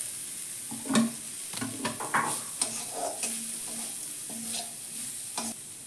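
Cauliflower frying with chili and chaat masala in a pan, a soft sizzle under repeated scraping stirs of the spatula, close and steady with no talking.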